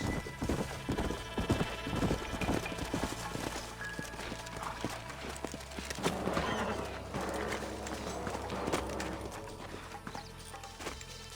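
Hooves clip-clop steadily on hard ground in a video game, several horses moving at a walk, with an occasional snort amid faint outdoor ambience.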